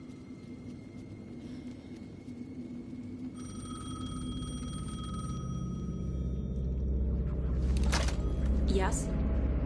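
A telephone rings in the Alan Wake 2 video game, faint and repeating over a low rumbling ambience, with sharper bursts near the end and speech around it.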